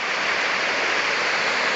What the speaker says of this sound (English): And if you hear that in the background, it's a gorgeous set of waterfalls.